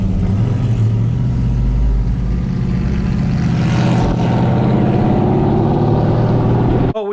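A Shelby GT muscle car's engine rumbles loud and close with a deep steady drone, rising slightly in intensity midway before cutting off abruptly at the end.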